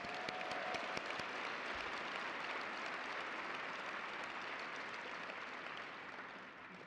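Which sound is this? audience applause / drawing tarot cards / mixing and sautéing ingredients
audience applause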